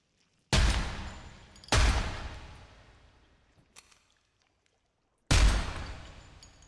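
Three sharp pistol shots ring out in the horror video game Psycho Dead, the first two about a second apart and the last after a pause, each with a loud crack and a long decaying echo tail.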